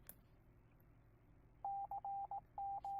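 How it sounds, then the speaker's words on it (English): Morse code tones from an emergency alert broadcast: a steady single-pitch beep keyed on and off in short and long pulses, starting after a quiet stretch and loud against faint background hiss. "Morse code."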